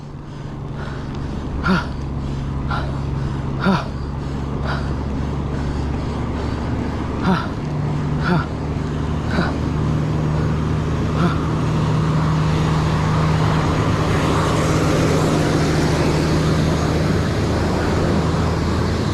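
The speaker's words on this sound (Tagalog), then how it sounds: "Naririnig niyo yung sasakyan." A car engine strains up the steep mountain road of Jebel Jais in the UAE, a loud, sustained drone with faint periodic ticks, heard alone without talk.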